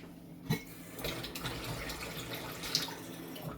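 Cold water trickles from a tap into a ground paste of ginger, turmeric and coriander-cumin powder, a faint, steady pour with a couple of small clinks.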